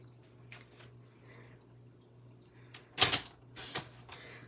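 A sheet of 6x6 patterned craft paper is sliced on a paper trimmer, giving a sharp close swish and scrape, followed by a softer second stroke over faint room hum.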